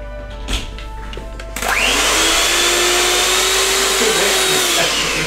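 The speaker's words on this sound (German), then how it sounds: "Kannst auch einen Mixer haben, pass auf." A kitchen mixer starts up abruptly after a couple of soft clicks and then runs loudly and steadily with a whining motor tone until the end.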